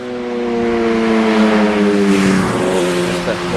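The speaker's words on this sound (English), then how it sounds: "As the motorcycle goes by us," A motorcycle passes close by on a road beside a church and an old historic cemetery in Rhode Island, its engine tone loud and steady, then dropping in pitch as it moves away.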